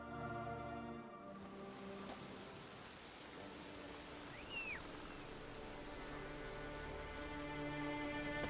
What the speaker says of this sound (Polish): Zanosi się na deszcz.